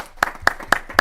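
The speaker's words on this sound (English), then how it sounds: "Let's give him a round of applause." Four sharp, evenly spaced hand claps ring out at close range in a legislative committee hearing room, a brief burst of light applause with no voices over it.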